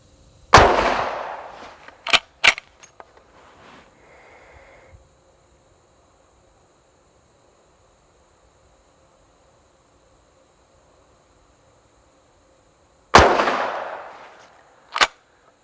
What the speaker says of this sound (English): I'm going to try 2 more shots from this distance of 25 yards to turn this into a 5-shot group